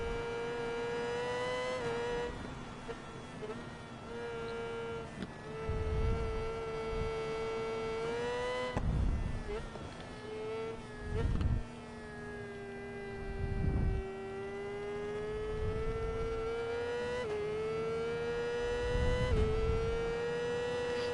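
Race car engines roaring around the Phillip Island circuit in a racing video game, a loud sustained whine rising and falling with gear shifts, with repeated low rumbling bursts as cars pass or brake; no talking.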